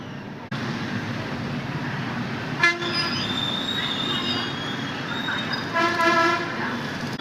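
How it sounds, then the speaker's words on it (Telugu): A train rumbles past steadily with a continuous rolling roar, and its horn sounds twice, once briefly near the middle and again toward the end, heard from a building at sunset in Nellore. "ఇదిగో ట్రైన్."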